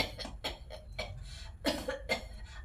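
An elderly man in a told story coughs his characteristic cough, a string of rough, uneven hacks and throat sounds in close succession, loud and near with no talk.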